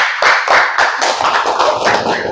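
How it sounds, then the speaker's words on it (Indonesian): Classroom applause from students, close rhythmic hand clapping in quick regular beats that grow more scattered toward the end, loud and near with no talk. "Boleh tepuk tangan."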